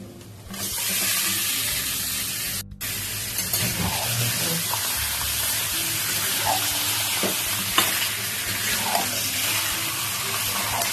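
Chicken pieces hit a pan of onions fried until reddish, setting off a loud, continuous sizzle with occasional stirring scrapes and clinks, while a steady hum runs underneath.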